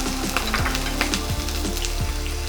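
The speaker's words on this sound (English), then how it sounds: "So after sauteing the vegetables and the paneer" Capsicum and other vegetables sauté in a kadhai with a constant loud sizzle, while a spatula knocks and scrapes against the pan in an irregular rhythm; no talking.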